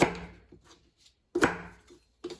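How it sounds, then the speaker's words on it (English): Carrots roughly chopped into chunks with a knife on a cutting board in a home kitchen: a few sharp, close knife strikes with short pauses between them, no talking. "And then I'm just roughly chopping these into chunks."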